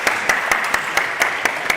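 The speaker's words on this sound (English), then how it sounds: "Let's give them a big round of applause." A few people clapping at a university venture day event, a sparse, regular series of distinct claps close by, roughly four per second.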